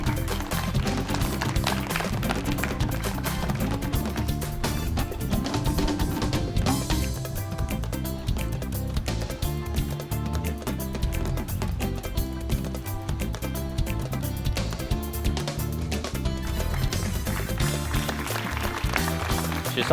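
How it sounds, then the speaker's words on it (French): An audience at a French-language children's quiz show applauds, a dense sustained wash of clapping that holds steady for the full stretch, with a voice speaking over it now and then. "applaudissez."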